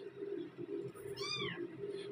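A three-day-old newborn kitten gives a single thin, high meow over a steady background hum, fairly faint and close.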